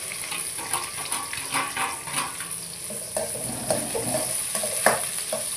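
Onion sautéing with curry leaves and dried red chillies in a pan, a continuous bright sizzle with repeated scraping and stirring strokes, close and moderately loud, with no speech.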